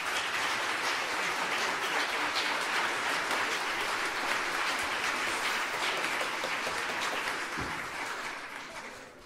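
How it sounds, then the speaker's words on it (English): Audience applause after a school Christmas concert by middle school students, a broad steady wash of clapping that thins and fades slightly near the end. "Give them one more round of applause."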